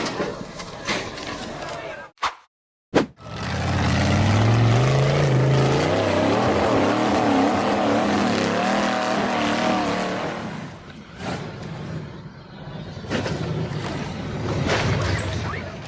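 An off-road buggy engine revs hard as it climbs a steep forest dirt hill, with a loud rising roar that swells mid-clip before easing off. Voices are heard around it.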